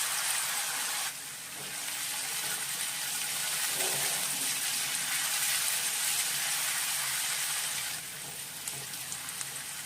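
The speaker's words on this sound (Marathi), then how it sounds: "आलं लसूण मिरचीची पेस्ट एक चमचा गोल्डन कलर येईपर्यंत परतवून घ्या" Ginger, garlic and chili paste sizzles steadily in hot oil in a pan as prawn masala is prepared, a continuous broadband frying hiss that swells louder from about one second and eases near the end.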